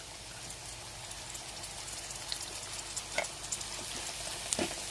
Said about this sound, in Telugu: దీంట్లోకి మనం పచ్చిమిరపకాయలు కర్రీ లీవ్స్ యాడ్ చేసేద్దాం గ్రీన్ మిర్చి అండ్ కర్రీ లీవ్స్